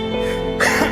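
A preacher's voice imitates a cough with a single short, rough throat burst, close and loud.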